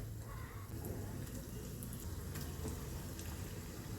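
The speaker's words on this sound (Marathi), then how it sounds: "त्याच तेलामध्ये मी हे रोल सोडून घेते गॅस जरा वाढवून घ्यायचा आहे हे फ्राय करून घेऊयात" Potato rolls fry in hot oil on a raised flame, giving a quiet, even bubbling hiss that holds steady throughout, with faint scattered crackles.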